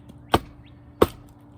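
An axe chopping and splitting a bark-covered red oak log lands two sharp, loud thwacks about three-quarters of a second apart, close up, with no talking.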